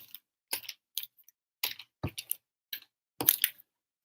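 Quick shuffle of a stack of hockey trading cards from a case break, heard as a series of short crisp riffling bursts up close, with pauses between them and no talk.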